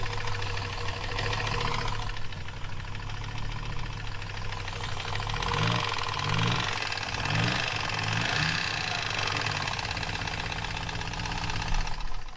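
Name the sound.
car engine idling with rod knock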